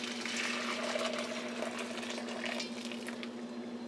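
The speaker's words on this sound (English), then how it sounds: "all I'm going to do is pour this in." Hot liquid poured into a bowl while making chocolate malt ice cream, a steady close splashing trickle over a constant low hum, with no talking.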